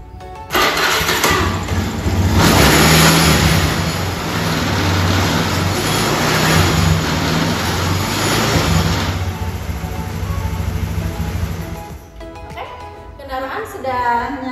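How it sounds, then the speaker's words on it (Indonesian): A Honda Beat scooter fires up after its CVT driven pulley is reassembled, the engine catching and revving loudly and close for several seconds before settling down, with a voice speaking briefly at the end. "Kendaraan sudah nyala lagi, sudah berfungsi kembali dengan baik gitu ya."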